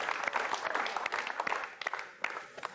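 Studio audience applause welcoming a guest onto a Hindi couples' game show stage, dense steady clapping that swells and flickers with sharp individual claps throughout, close and fairly loud.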